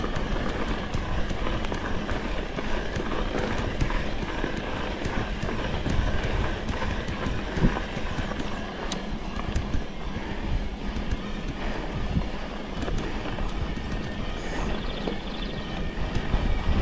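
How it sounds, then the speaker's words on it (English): A Specialized Levo Gen 4 S-Works e-bike motor runs in full turbo on a trail ride, a continuous loud drive whine mixed with tire rumble and wind, steady and close throughout. "hope you enjoyed that Bullit and the motor sound"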